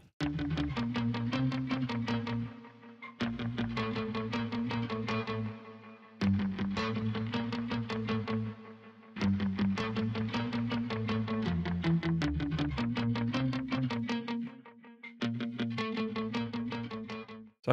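Electric guitar run through doubling chorus, reverb, delay and octave effects, playing repeated riff phrases with brief gaps, thick and wide with lingering echoes and a deep octave layer, close and loud throughout.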